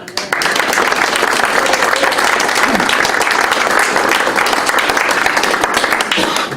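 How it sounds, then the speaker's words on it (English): Audience at an annual general meeting breaking into loud, sustained applause, dense clapping from a crowd filling the room for several seconds. "He needs a big round of applause."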